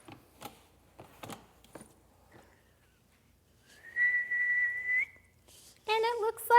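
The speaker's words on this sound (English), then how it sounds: "So if you can whistle, start whistling now." Person whistling a few clear sustained notes, faint and fairly close, after some light tapping, with a brief burst of voice at the end.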